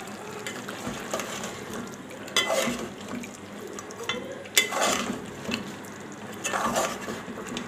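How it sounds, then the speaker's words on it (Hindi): Beef keema istoo stirred in a cooking pot, with soft sizzling and a spoon scraping and clinking against the metal in a few louder strokes, fairly quiet and without talk. "अब मैं इसको चलाऊंगी ताकि ये थोड़ा हल हो।"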